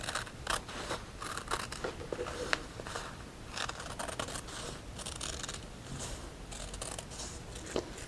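Scissors snip and slide through quilt fabric along a traced line, a steady run of close, crisp cuts with short pauses between strokes, no talking.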